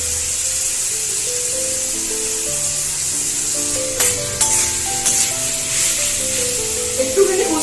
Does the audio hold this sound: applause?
no